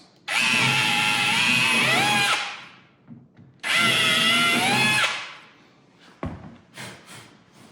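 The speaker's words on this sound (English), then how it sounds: "And then drill through our drawer box." A power drill whines in two long bursts of about two seconds each, close and loud, drilling through a wooden drawer box, followed by a few knocks and handling sounds.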